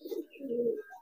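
A single soft, low pigeon coo from a domestic pigeon, brief and fairly close, in an otherwise quiet setting.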